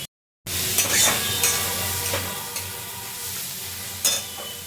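Spring onion greens stir-fried in a pan for fried rice give a steady close sizzle and frying hiss, with spatula scrapes and stirring knocks rising above it now and then; silence at the very start.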